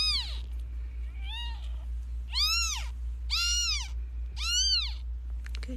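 A newborn premature kitten meows in five thin, high-pitched cries with short pauses between them, close by over a constant low electrical hum.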